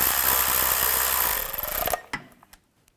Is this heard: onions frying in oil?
no